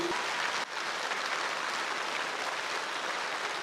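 A large audience at a Safe Shop business event applauds in a steady, dense wash of clapping heard from a distance, with no break for the few seconds it lasts.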